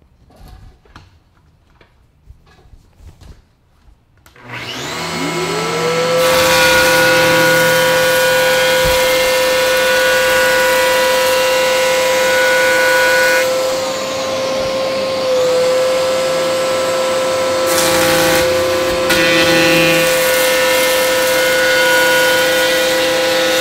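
An 850 planer feeds a 4x4 with a CT Cyclone dust extractor attached. The room is quiet at first, then the machinery spins up around five seconds and keeps up a loud, steady whine and roar with slight shifts under load.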